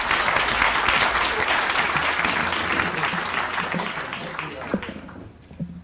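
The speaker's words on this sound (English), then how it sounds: "Let's give him a round of applause." An audience applauds a speaker at an economics talk: a full burst of clapping that holds strong for a few seconds, then thins out and fades toward the end, with scattered individual claps.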